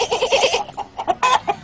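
A human voice imitates a goat's bleat in a run of quick, nasal, wavering calls, followed by several shorter choppy bleating bursts, close and clear with no other sounds.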